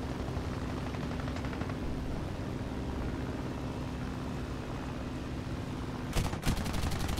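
Gunfire in War Thunder from aircraft guns over a steady propeller engine drone, ending with a few short, sharp rapid bursts near the close.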